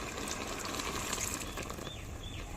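Water poured into a pot of pumpkin curry, a steady broadband splashing and gushing that runs the whole time with no voice over it.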